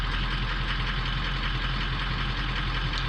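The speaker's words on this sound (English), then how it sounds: "Let's give it a little throttle. Just a little throttle and then drop out." A 2004 Ford King Ranch truck engine running steadily with a little throttle, a constant loud low rumble and drone, close up with no talk.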